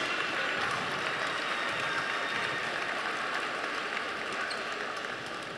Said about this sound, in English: I want you to first give each and every team a round of applause.